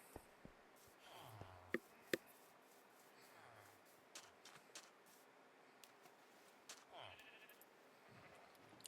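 Sheep bleat several times in a video game, short calls scattered over a steady background, with a few sharp clicks and chopping sounds mixed in.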